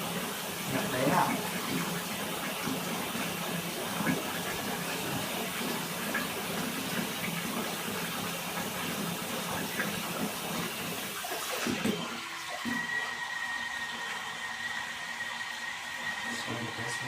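Tap water runs steadily while a dog gets a bath, a loud continuous splashing rush that changes character near the end. Faint voices sound beneath it.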